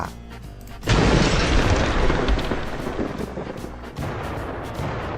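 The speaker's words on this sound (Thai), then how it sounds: "ฟ้าผ่า" A lightning strike in the destruction game CitySmash sets off a sudden loud thunderclap that rumbles and crackles for several seconds, followed by a second burst of rumbling, with rain-like noise beneath.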